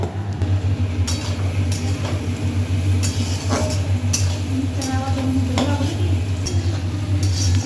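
Food fries in a pan while a utensil stirs it, giving a steady sizzle with repeated sharp scraping clicks and taps against the pan, and a low background hum throughout.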